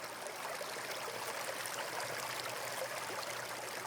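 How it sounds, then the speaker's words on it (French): A small stream flows steadily, a soft continuous watery hiss and trickle heard alone at low volume. "au bord de votre petit ruisseau"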